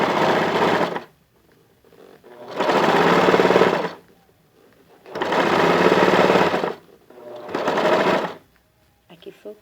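Sewing machine running a zigzag stitch that attaches elastic to cotton fabric for children's underwear, heard in four long, steady bursts separated by short pauses.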